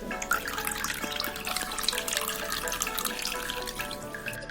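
Soaked cotton squeezed by hand over a container, water streaming and dripping out in a close, continuous trickle with small splashes, no voices.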